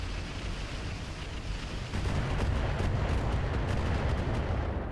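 Incoming missile fire pounding around a mech in the RogueTech mod of the BattleTech video game, a dense rumbling barrage of booms and crackles that swells louder about midway and keeps rolling without talk.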